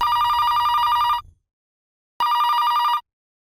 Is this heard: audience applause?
no